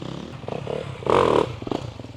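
Dirt bike engine ticking over at low revs, rising briefly in a short throttle blip before settling back, close by and fairly loud, with some clatter.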